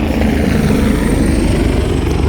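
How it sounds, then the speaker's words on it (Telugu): A loud, continuous engine drone fills the air without a break, like helicopters passing overhead on the Kedarnath pilgrimage route in India. "హెలికాప్టర్స్ నా పైనుంచి వెళ్తున్నాయి."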